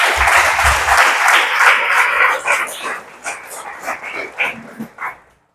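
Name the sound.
congregation applause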